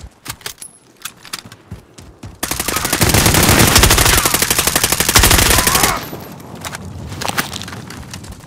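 Sustained automatic gunfire from Call of Duty: Modern Warfare, a loud rapid burst lasting a few seconds in the middle, with quieter scattered shots and game sounds before and after.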